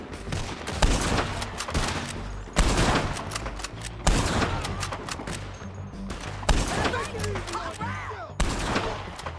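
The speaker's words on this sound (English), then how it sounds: "Who the hell is shooting at us?" Heavy gunfire in a Red Dead Redemption 2 shootout, repeated volleys of shots and booming blasts arriving in loud clusters over several seconds, with brief gaps between bursts.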